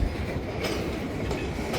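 A freight train passes on the rails, a dense continuous rumble of wheels and car noise, close and steady throughout the short stretch.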